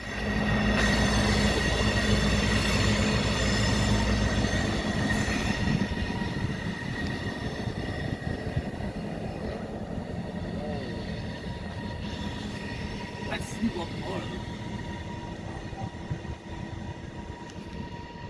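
A train rumbles steadily past up close at a railroad crossing in Elkhart, Indiana, wheels grinding and squealing on the rails in a loud, continuous roar that slowly eases.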